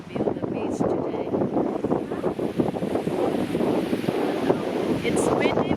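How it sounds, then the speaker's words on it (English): Wind gusts across a sunny beach, buffeting the microphone in a continuous loud rumble with faint surf beneath, steady throughout the few seconds. "It's windy, which is good because it is very sunny."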